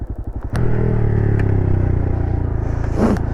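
A motorcycle engine idles with a quick pulsing beat, then the rider dumps the clutch and revs hard into a loud, sustained close-up roar that rises again near the end.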